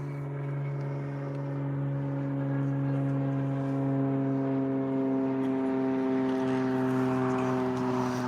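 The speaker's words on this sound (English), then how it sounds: "Oh, stunt planes above us." A stunt plane drones steadily overhead above a river bridge, its engine a sustained, fairly loud hum with a slight rise in level throughout.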